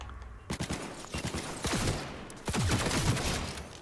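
Rapid gunfire from a gun in Cyberpunk 2077 crackles in quick bursts and a steady fusillade, loud and close, with no one speaking over it.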